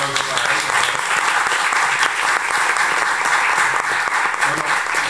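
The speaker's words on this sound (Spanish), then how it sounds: "Un aplauso para él." An audience at a film screening and colloquy in Madrid's Cineteca claps steadily and densely for about five seconds, close and loud, with faint voices mixed in beneath the applause.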